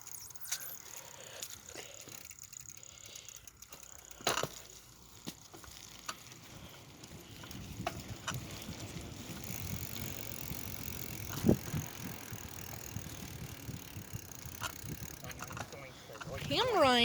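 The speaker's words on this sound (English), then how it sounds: "Riding a bike and cameraing can get a little hard sometimes." A bicycle is ridden around a park, giving a low, faint rolling rumble with light rattles and wind noise, a few sharp clicks, and a louder burst near the end.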